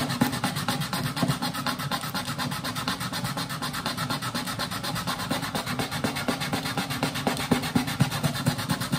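Sandpaper rubbed by hand across an acoustic guitar bridge, a steady back-and-forth scratchy rasp in quick regular strokes, close and loud throughout with no voices.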